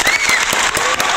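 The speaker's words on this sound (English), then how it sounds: "So give them a big round of applause." Clapping from a small group greets debaters in an online English-lesson debate on free university tuition, a brief, fairly loud burst of claps lasting about a second.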